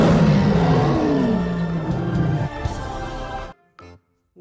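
A toy lion lets out a loud electronic roar, a growling call with falling pitch that runs about three and a half seconds and then cuts off abruptly, followed by faint handling noise.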